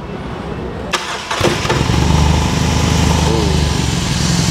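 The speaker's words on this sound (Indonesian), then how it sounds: "Kita akan ke R18 First Edition dan kita coba hidupin mesinnya." The boxer engine of a BMW R18 First Edition motorcycle cranks with a short starter whir, catches, and settles into a loud, deep, steady idle rumble close by, with no talking.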